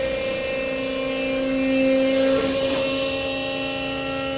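A reconditioned 230-ton Cincinnati CNC press brake with hydraulic cylinders running, a steady mechanical hum with tonal whine that swells briefly midway and then settles, with no voices.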